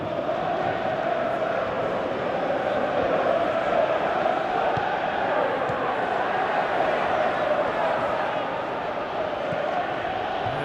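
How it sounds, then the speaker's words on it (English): Stadium crowd in the football video game PES 2018 roars as a constant, loud wash of noise throughout, with no clear breaks or peaks. "you can hear how the crowd are reacting to this too"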